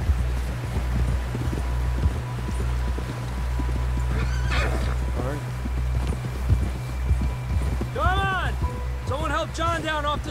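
In the video game Red Dead Redemption 2, hooves pound in a steady galloping rhythm while a horse gives two loud whinnies near the end, with low rumble underneath.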